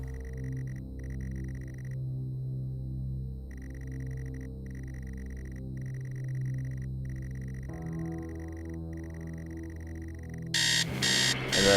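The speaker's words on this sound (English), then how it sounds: "And then the alarm clock will go off." An alarm clock in the Stories Untold video game rings steadily over a droning, tonal game soundtrack, its repeated electronic beeps pausing briefly and resuming, ending in a louder, harsher burst.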